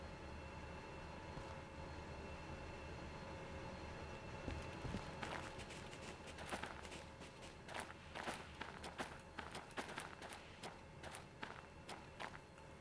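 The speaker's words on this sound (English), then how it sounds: "Runaway train coming through." A runaway train rolling on rails in the Derail Valley game, a rumbling run with rapid irregular clacks and knocks that grow busier toward the end.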